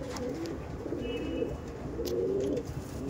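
Andhra Madras pigeons coo steadily in low, rolling phrases that repeat across the stretch, close by, with a faint high chirp now and then.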